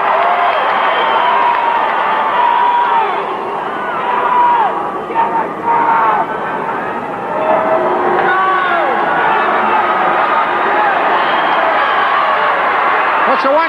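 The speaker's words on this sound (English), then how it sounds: "Crowd is saying, do it, man." A wrestling arena crowd at a classic Owen Hart versus Razor Ramon match roars and chants steadily throughout, a dense, continuous wall of cheering voices with rhythmic shouted chants rising and falling.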